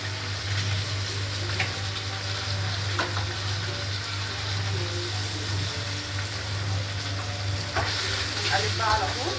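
Two eggs sizzling in a pan while being stirred, a steady crackling fry with a low continuous hum beneath and occasional scraping clinks of the utensil against the pan.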